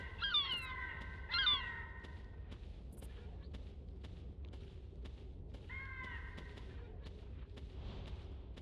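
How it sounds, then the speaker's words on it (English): Seagulls call in the snowy Far North setting of the Carnivores game, two quick bursts of sharp, layered cries near the start and another call later, moderately loud over a low steady wind-like ambience. "Oh, just seagulls."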